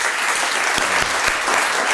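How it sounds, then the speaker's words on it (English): A room of listeners at a Raising the Bar Melbourne health talk breaks into applause for the speaker, a steady wash of clapping heard alone, close and full. "Can you please give Leo a final round of applause?"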